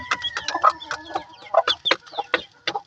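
Chicks in a brooder box peep and cheep in a dense, continuous chorus of short, high calls, close by and fairly loud, with no talking.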